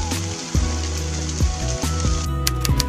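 Heavy rain from a storm falling around a Flores hawk-eagle nest, a dense steady hiss of drops on leaves and surfaces with occasional louder splashes, continuous and close.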